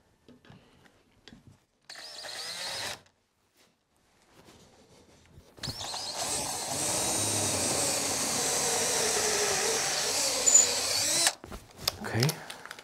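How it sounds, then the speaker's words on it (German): A cordless drill driver hums and whirs steadily for several seconds, driving screws into a wooden board door for a shed, after short clicks and brief bursts of motor noise. "Hier natürlich mit dem Akkuschrauber am allerbesten."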